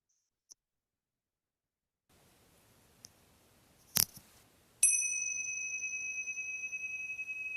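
A meditation bell rings once, clearly, after a few soft clicks and a brief knock, its bright, sustained tone lingering and slowly fading in an otherwise quiet room.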